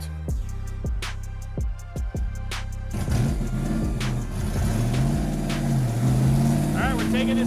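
A 1993 Ford Mustang making roughly 1,000 hp is driven on a street test drive. A loud engine note rises and climbs, with sharp crackling bursts early on and a steady growl under a voice.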